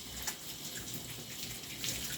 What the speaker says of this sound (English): Rinse all the soap out, all the shampoo, if it's soap free, but it's still shampoo